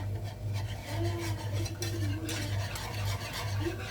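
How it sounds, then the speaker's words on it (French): Batter with milk is stirred to work out lumps, a close continuous rubbing, scraping swirl with faint wet sloshing and a low steady hum underneath. "Et on mélange pour pas faire des grumeaux."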